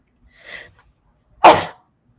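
A soft intake of breath followed by a single sharp, forceful sneeze, close and alone in a quiet room.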